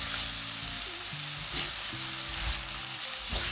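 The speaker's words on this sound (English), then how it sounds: "Oh, the pepper is cooking. I can tell you that. And the onions in it." Peppers and onions fry for Jamaican escovitch fish, a steady close sizzle and crackle filling the pan with light stirring, no voices.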